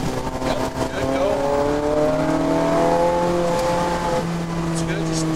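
A Ferrari 430 Scuderia pulls hard on a Las Vegas race track, its engine note climbing steadily through the revs in a loud, sustained in-car drone, with an instructor's voice talking over it.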